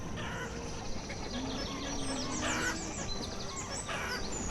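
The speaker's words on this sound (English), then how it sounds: "And that is chickens." Chickens in the Banished video game, clucking and squawking in a busy farmyard mix of bird calls over steady ambient game background noise, with several brief louder calls.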